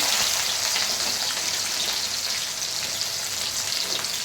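Green chillies and onion frying in hot oil, a steady close sizzle with fine crackling and spitting that holds constant throughout, with no voices.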